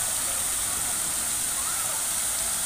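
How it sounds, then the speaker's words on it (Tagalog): Rain falls at Splash Island water park in Biñan, Laguna, a steady, dense hiss that stays even and loud throughout with no distinct drops standing out. "Ayan, umuulan."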